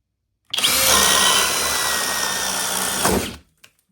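A cordless Bosch drill in drill mode, speed 2 with turbo on, bores into wood with a Diablo 1 1/2 inch paddle bit: a loud, close, continuous grinding whine for about three seconds that cuts off abruptly.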